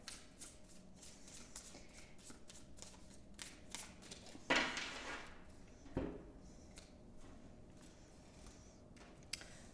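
Tarot cards being shuffled close by, soft repeated riffling and tapping in uneven bursts, with a couple of louder slaps of the deck, quiet overall.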